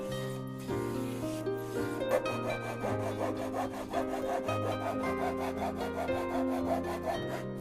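A hand saw cuts wood for a gusli, the sharp sawing strokes repeating in an even, rapid rhythm close by after a few slower opening pulls.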